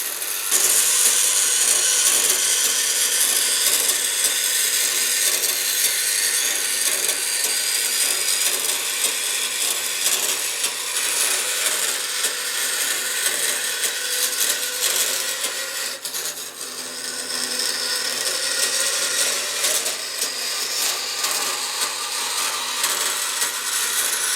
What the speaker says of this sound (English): You don't try to cut tempered metal on a saw like this because you'll take all the teeth off of the saw blade.